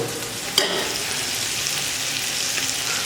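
Onions frying in a pan with turmeric and salt added give a steady, close sizzling hiss throughout, broken by a single sharp clatter of stirring near the start.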